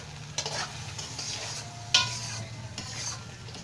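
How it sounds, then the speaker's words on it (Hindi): A spoon stirring poppy seeds being roasted in a pan, giving soft scraping and rustling strokes at a steady pace with a few light clinks, close and quiet. "इसे मुसलसल चम्मच हिलाते रहना"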